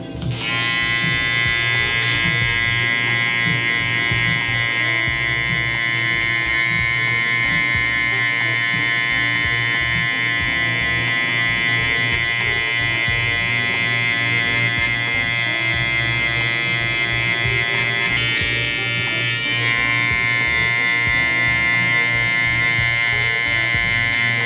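Electric hair clippers buzz steadily and close through a hair fade, run with the lever open and a one guard, a continuous motor hum holding level throughout with slight shifts in tone as the blade moves through hair.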